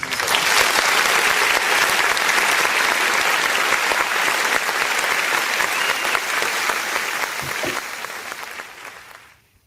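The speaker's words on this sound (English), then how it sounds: "I'd like to make a clap for him" A crowd claps in loud, dense, continuous applause that holds steady for several seconds and then fades out at the end.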